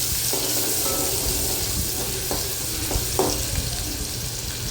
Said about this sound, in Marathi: आणि कांदा व्यवस्थित आपण परतून घ्यायचा आहे तेलामध्ये.